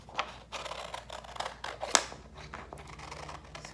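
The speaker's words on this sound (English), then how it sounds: "we're gonna cut this shape out" Scissors snip around a paper circle for a craft flower, a series of quick close crisp cuts with one sharper snap near the middle, with no voices.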